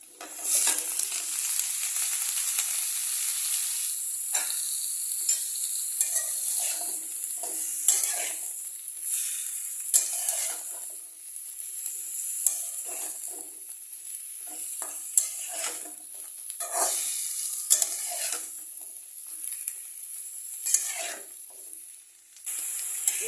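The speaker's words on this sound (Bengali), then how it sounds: "সবজিটা দেওয়ার পরে আমি এক মিনিট এটাকে নেড়ে নিয়েছি" Mixed vegetables sizzle in hot oil with onion and spices in a pan for chorchori, a continuous close hiss broken by repeated scraping strokes of a spatula stirring them.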